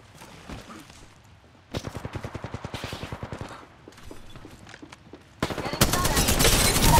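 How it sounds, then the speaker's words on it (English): Apex Legends gunfire: a rapid automatic burst of evenly spaced shots, a pause with scattered pops, then dense loud firing and noisy action at the end, with game voice callouts around it. "Getting shot at."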